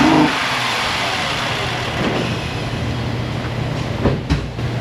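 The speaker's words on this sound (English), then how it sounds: "I'm going to go ahead and crank this over." A car engine is cranked over by its starter during a compression check with the throttle held wide open, giving a steady mechanical churning that holds for several seconds with a few sharper knocks near the end.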